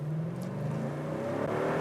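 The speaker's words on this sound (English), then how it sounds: "I absolutely love the way this engine sounds at full revs" 2019 Toyota Tundra V8 under full throttle, the engine note climbing steadily as it revs hard, loud and close, with no voices.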